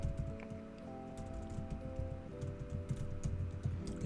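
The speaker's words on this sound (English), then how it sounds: "I hate this keyboard." Rapid, steady typing on a computer keyboard during a programming session, with dense clicking keystrokes continuing throughout at close range and no talking.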